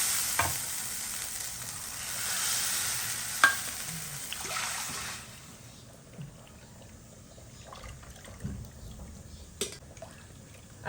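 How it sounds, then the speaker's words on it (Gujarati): Urad dal batter being poured into a pot on a gas stove, with a steady sizzling, stirring wash for the first half that fades to quieter bubbling, broken by a few sharp utensil clinks and knocks. "હાલો હવે આ છે ને બેટર રેડ કર્યું ને ગેસ કરી દઈશું"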